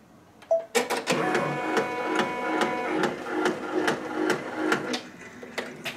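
A multi-needle embroidery machine sews satin stitches on a star quilt block, a steady mechanical whirring with regular sharp clicks and taps, close and loud throughout with no talking.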